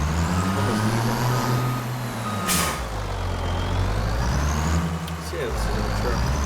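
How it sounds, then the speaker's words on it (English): A Chevy truck in Farming Simulator 25 rumbles with a low engine drone that rises and falls as it moves, joined by brief hissing bursts and faint beeps, with a voice talking over it. "Chevy truck. It sounds like a pretty decent piece of equipment."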